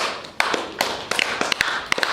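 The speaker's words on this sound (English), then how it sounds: "We do a lot of clapping." Scattered claps from students in a classroom, a few sharp, uneven hand claps and taps spread across a couple of seconds rather than full applause.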